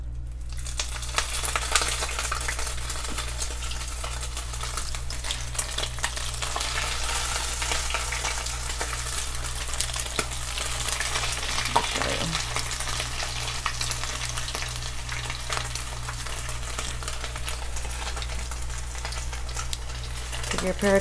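Homemade taco shells fry in a pan of hot oil with a continuous, dense, crackling sizzle and a steady low hum, alongside occasional light clinks of utensils.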